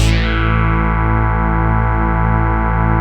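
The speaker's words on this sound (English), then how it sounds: "and then a growling bass." A growling synth bass from a chord-progression arrangement holds a thick, buzzing sustained tone with a dense stack of harmonics, steady and loud from start to finish with no talking.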